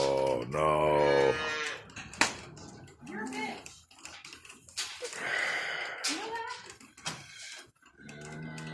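A dairy cow moos loudly and close at the start, with a long harmonic call, followed by someone talking and a few shorter, fainter lowing sounds in the barn.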